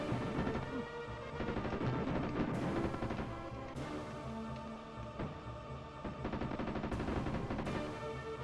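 Gunfire in a Jurassic Park video game as enemies are shot, dense continuous bursts of shots layered over game music and effects, loud and busy throughout with no talking.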